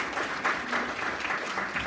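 Audience in a Las Vegas lecture hall applauding a doctor at an Alzheimer's education event, a soft, even patter of many hands heard from some distance, continuous and fairly quiet.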